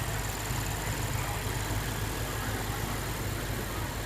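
A 2015 Lexus RC F idles with a steady, even engine drone, heard close and continuous with broad noise and no talk.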